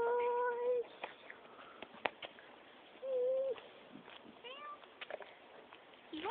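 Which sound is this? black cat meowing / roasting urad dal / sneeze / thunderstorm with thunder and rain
black cat meowing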